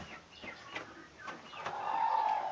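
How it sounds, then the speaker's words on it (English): A broody quail being touched gives low, agitated clucking calls, repeated a few times at close range and alone, with a steadier sustained note toward the end. "So that's the noise they make when you get broody"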